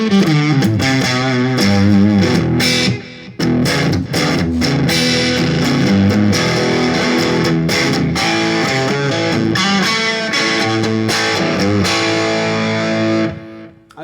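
An electric guitar plays through a Peavey Vypyr VIP 1 amp with heavy distortion and delay, giving loud, sustained chords and echoing repeated notes that ring steadily for the whole passage before cutting off at the end.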